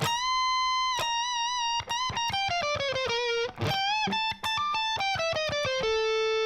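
A distorted electric guitar plays a slowed melodic lick from a solo alone, notes bending and sliding with sustained, harmonically rich tone at a steady moderate volume.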